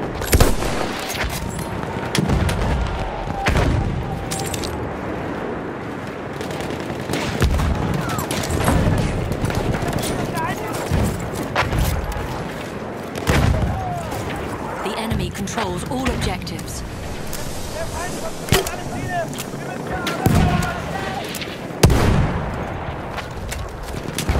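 Battlefield 1 gunfire on the Fort de Vaux map: machine-gun bursts and scattered rifle shots crack near and far, with occasional louder booms, under in-game soldier voices and battle noise.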